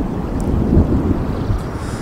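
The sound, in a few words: strong wind blowing before a storm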